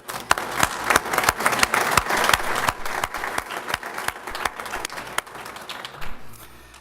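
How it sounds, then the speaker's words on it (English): A luncheon crowd at a police awards event claps loudly, with many hands and distinct sharp individual claps standing out in an uneven rhythm, tapering off near the end. "We all give them a round of applause."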